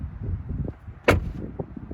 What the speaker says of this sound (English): let's hear the sound of the door as it closes